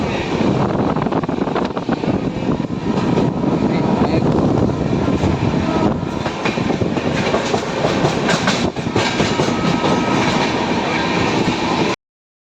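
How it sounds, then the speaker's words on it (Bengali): A passenger train pulling into Dakshineswar station on a Kolkata line, heard from on board as a loud continuous rumble and rattle of the carriages with clattering wheels and wind buffeting, steady throughout until it cuts off. "আমাদের ট্রেনে এখন দক্ষিণেশ্বরে হচ্ছে পৌঁছালো"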